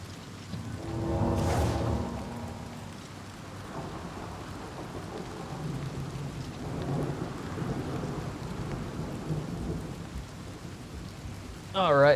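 Steady rain patters quietly throughout while a low roll of thunder rumbles early on, soft and distant, heard from indoors in Oblivion Remastered.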